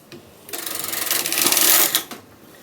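Domestic knitting machine carriage sliding across the bed to knit rows, a close rhythmic clattering rasp building over about a second and a half and ending in a clunk, with no talk.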